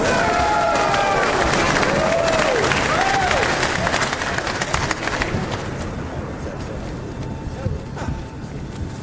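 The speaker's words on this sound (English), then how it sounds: "one more round of applause for MXS's newest airman promotees" Loud crowd applause and cheering for newly promoted Air Force airmen of the MXS squadron at a promotion ceremony, with whistles and voices over sustained clapping that gradually fades.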